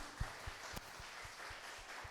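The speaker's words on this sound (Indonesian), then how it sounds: "kita berikan tepuk tangan" A congregation in a Baptist church claps for a new branch pastor during a Sunday service. The applause is fairly soft with a few distinct individual claps in a loose rhythm.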